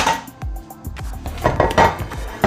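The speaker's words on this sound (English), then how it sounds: "Then we're just gonna add it to a baking dish." A mixture scraped and tapped into a baking dish for a smoked beef tenderloin, with close, loud clinks and knocks of a utensil against cookware in an irregular clatter, without talking.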